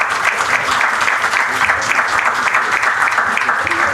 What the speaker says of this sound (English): Please give a big round of applause for our speakers